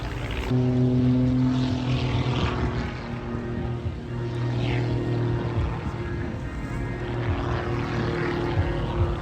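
Propeller aircraft at the Eastbourne International Airshow drone overhead, a sustained engine hum with shifting tones as the planes pass, continuous and moderately loud throughout.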